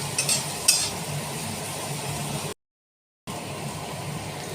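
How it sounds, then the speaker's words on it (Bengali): Chopped onions fry in oil in a pan while mutton curry is being cooked. The steady sizzle has a few clinks of stirring near the start and drops briefly into silence partway through. "বাকি তেলে পেঁয়াজ কুচনোগুলো দিয়ে লাল করে ভেজে নেব।"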